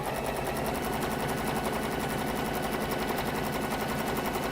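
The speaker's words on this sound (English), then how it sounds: "I've put my needle in the middle position because I'm going to sew on the line." A sewing machine stitches along a marked line with the needle set in the middle position, a dense steady rapid whir of stitches running without a break, loud and close.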